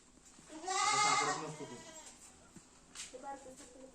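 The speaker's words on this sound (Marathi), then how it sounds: "शेळीच्या पिल्लाला" A baby goat bleats once loudly at close range in a wavering cry, followed by softer, fainter bleats and low background noise.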